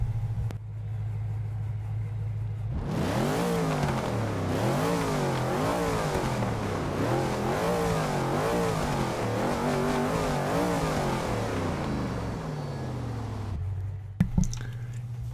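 A loud V8 engine of a Hot Wheels Bone Shaker rat rod in Forza 6 revs up and down repeatedly with a rising and falling pitch, steady throughout, ending with a brief click.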